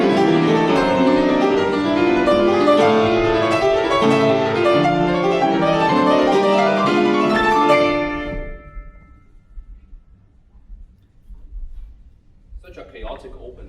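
A piano plays the stormy, fast-moving opening of Schumann's Kreisleriana, with dense rushing figures, for about eight seconds before the notes ring away into near silence, followed by a short, faint noise at the end.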